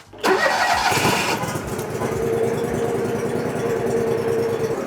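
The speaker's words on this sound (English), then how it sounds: "For some reason, when you put it in reverse, it like kills the engine." A rented digger's engine cranks and catches after stalling, a sharp start followed by a steady, close mid-pitched idle that continues to the end.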